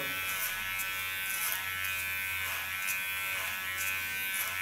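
A cordless Kiona hair clipper buzzes steadily and close while cutting hair, a continuous electric hum with faint rhythmic swells as it passes through the hair, no voices.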